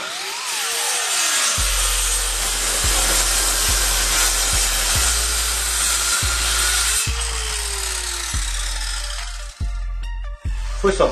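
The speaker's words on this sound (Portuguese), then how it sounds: "Foi só passar uma lixa e ficou o tampo pronto." A wooden table top is sanded with a power sander that runs as a loud, continuous rasping whir, its pitch sweeping up and down. The work is interrupted by repeated short thumps and brief pauses near the end.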